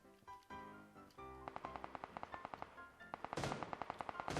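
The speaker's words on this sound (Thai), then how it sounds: "เสียงปืนอะ" Gunfire from the battle royale game PUBG Lite, starting with a few single shots and building into rapid bursts of automatic fire, loud and fairly close, with no talking over it.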